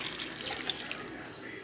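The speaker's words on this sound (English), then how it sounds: "I'm gonna add a little bit more water, not the whole thing, maybe like half." Water is poured into a cooking pot with cilantro, butter and lime, a brief splashing trickle that fades after about a second, close and fairly quiet.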